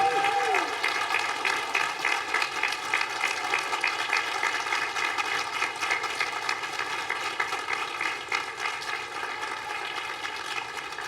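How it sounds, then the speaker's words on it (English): A large crowd in a university quad applauds graduates at an outdoor commencement ceremony, producing a sustained dense wash of clapping that slowly tapers off, with amplified voices over it at the start. "turn to our graduates right here in the quad, and give them a huge round of applause"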